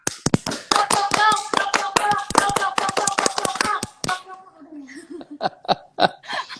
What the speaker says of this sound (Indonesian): Kita berikan tepuk pramuka.